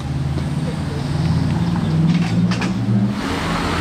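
A McLaren GT sports car engine hums and rises in a revving growl, close by, with people talking over it.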